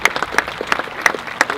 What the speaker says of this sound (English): How about a round of applause for both of them?